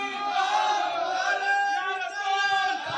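A crowd at a Muslim religious gathering chants the slogan Nara-e-Takbeer in unison, a dense, sustained roar of many voices that holds steady for a few seconds.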